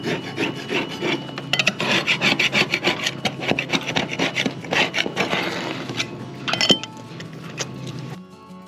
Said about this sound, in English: I spent about an hour and a half removing the weather stripping and silicone.